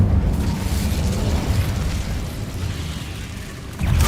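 The Incendio fire spell in Hogwarts Legacy erupts as a loud, rumbling burst of flame that roars on for several seconds, then swells again at the end.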